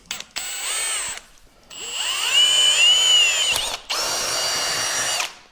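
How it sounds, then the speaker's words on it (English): A power drill fitted with a 3/16 drill bit whines loudly in several bursts, spinning up and pausing between runs, near and alone while working on a big garden tractor tow rig. "Using a 3/16 drill bit, by the way."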